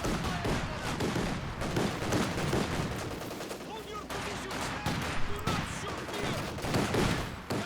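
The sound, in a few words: machine gun fire in Company of Heroes 2 video game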